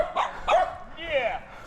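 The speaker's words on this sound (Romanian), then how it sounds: "Am dat direct în câini." Several dogs bark sharply on a countryside bike ride, two or three close barks followed by a whining, yelping cry, with a voice speaking nearby.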